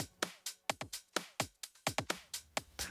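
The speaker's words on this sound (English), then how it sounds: "The first one I added was this top loop here." A soloed percussion top loop from a tech house track plays alone, made of crisp, punchy hits and shuffling hat-like ticks that repeat in a tight, driving groove for a few bars.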